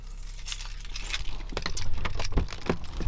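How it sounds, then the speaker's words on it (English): Keys jangling while stepping out of a BMW 535i, close metallic clinks and rattles in irregular bursts with handling noise, no talk. "Let me go and take my keys with me because I don't want to lock myself out."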